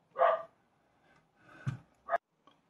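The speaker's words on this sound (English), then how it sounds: "even if she's just barking." A few short dog barks at close range, separated by pauses, with a faint soft yip near the end.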